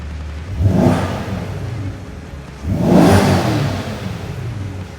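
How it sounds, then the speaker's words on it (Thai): A naturally aspirated Chevrolet Corvette convertible engine in track mode revs twice, each loud rising roar swelling then falling back to a rumbling idle, close by. "มาฟังเสียง NA ของรถดีกว่านะครับ"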